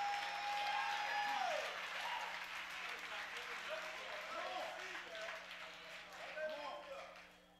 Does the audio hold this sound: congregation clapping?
yes